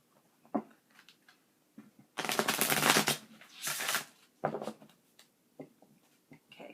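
Tarot cards are shuffled close by in two quick riffling bursts, the first longer and louder, with scattered soft taps and card handling around them.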